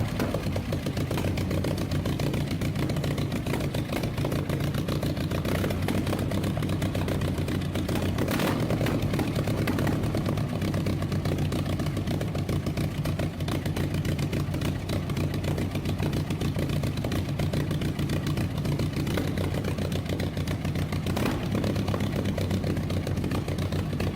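Rolls-Royce Griffon V12 aero engine starting up and running, a steady, dense low engine drone at close range, loud and continuous throughout with no voices.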